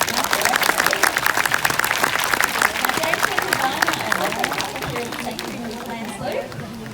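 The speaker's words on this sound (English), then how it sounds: "Probably give her a round of applause." An audience claps in a dense burst of applause that gradually thins out, with some chatter mixing in toward the end.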